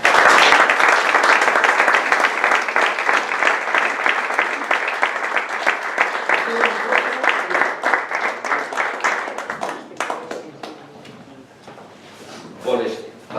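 Strong, dense audience applause welcoming a guest speaker at an Asturian theatre talk in a restaurant, sustained loud clapping that thins out into scattered claps toward the end.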